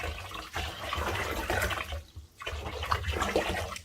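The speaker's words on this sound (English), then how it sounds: "And now I'm just going to add my bleach, and I don't really measure anything." Bleach is poured in several passes into a sink of hot water, giving a steady splashing, gurgling pour that runs nearly continuously with one brief break, fairly close and unaccompanied by talk.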